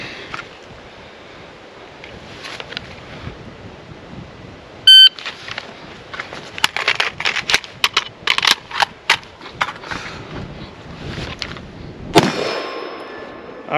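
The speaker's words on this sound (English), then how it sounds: "I'm going to be setting a timer to start my reload, and then I'm going to shoot around to get a time on there" An electronic shot timer beeps once to start an AK-47 tactical reload drill, then a burst of sharp rifle shots follows in uneven quick clusters with metallic clanks of the reload. A final loud shot comes near the end. Everything is close and loud.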